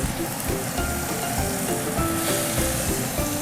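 Duck breast frying in a pan, with a steady broadband sizzle running throughout and light clatter and stirring sounds layered over it, no voices present.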